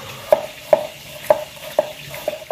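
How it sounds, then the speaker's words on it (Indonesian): Lembat catfish fry in a pan with a low background sizzle, punctuated by about six sharp clinks of a utensil against the pan at an uneven pace, close by and without speech. "sambil nunggu lembatnya masak digoreng kita racik dulu"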